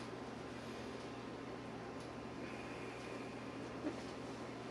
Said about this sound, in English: Sorry about the computer fan noise.